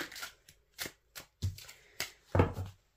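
A deck of tarot and oracle cards is shuffled by hand in a few quick, close riffles and slaps separated by short pauses, with no voices.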